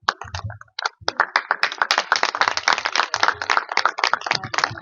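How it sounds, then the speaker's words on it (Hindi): An audience claps to welcome a guest at a spiritual discussion gathering, starting with a few scattered claps that quickly swell into steady, close, lively applause. "तालियों के साथ सब स्वागत करें।"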